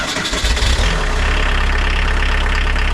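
A VW T25 van with a swapped 1900 engine cranks and catches with a few rough bursts, then settles into a steady, close, loud idle with a rhythmic low throb.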